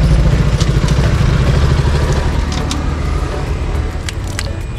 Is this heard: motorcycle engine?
yes